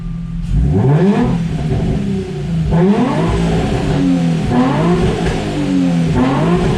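A loud, close Nissan Z car exhaust with cutouts open revs repeatedly, the pitch sweeping up and falling back in rhythmic bursts with a throaty, open rasp.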